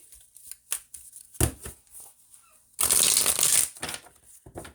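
Tarot cards being shuffled up close, a few soft taps and riffles, then a dense, loud riffle of the deck lasting about a second, followed by lighter card handling.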